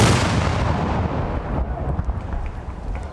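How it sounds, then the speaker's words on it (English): A ceremonial cannon fired outdoors at a city event, one loud booming blast that rolls and fades over about three seconds, close and alone. "Always enjoy hearing, seeing the cannon being shot off."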